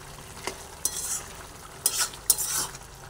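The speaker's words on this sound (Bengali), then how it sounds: "ধনেপাতা ছড়িয়ে দিয়ে ভালোভাবে একটু ধনেপাতা মিশিয়ে দিচ্ছি।" Coriander leaves being stirred into a cucumber curry with sesame and poppy-seed paste in a pan, a few soft scraping strokes and light clinks of a utensil over a quiet background simmer.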